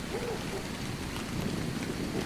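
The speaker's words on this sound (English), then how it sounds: "Okay, I can't actually get out of the rain." Rain falls steadily in the video game ARK, a dense, even hiss of droplets with a low rumbling bed throughout, fairly quiet and uninterrupted.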